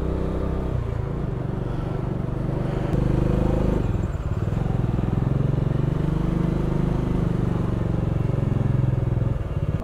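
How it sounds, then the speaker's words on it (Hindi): Slow-moving traffic on the mountain road over Baralacha Pass in the Spiti region, heard from a motorcycle: a loud, steady engine drone with low rumble and clatter throughout, no talk. "अभी धीरे धीरे चल रही ट्रैफिक, तो हम निकल रहे हैं धीरे धीरे आगे।"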